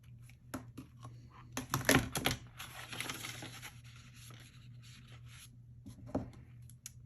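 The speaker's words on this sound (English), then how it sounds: "I'm going to take my zero centering ruler and I'm going to" A pen scratches a line along a zero centering ruler on a paper-crafting page, with a cluster of brisk scraping strokes up close, then lighter rubbing and a final short stroke over a steady low hum.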